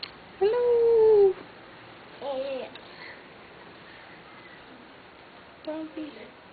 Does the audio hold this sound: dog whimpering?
yes